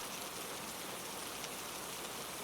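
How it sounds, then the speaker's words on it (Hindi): Steady, dense rain pours down without letup, a broad even hiss that fills the scene with no voices, at a street-side food cart serving hot mutton biryani. "बारिश तेज हो गई"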